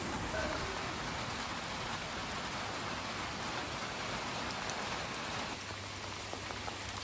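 Heavy rain falls steadily at a campground, a dense continuous hiss of drops hitting surfaces, even and enveloping from start to finish with no talk.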